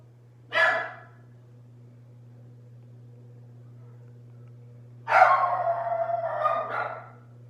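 Dog barking indoors, one short bark followed after a pause by a longer run of barks and whining yips, fairly close, with a steady low hum in the background and no talk.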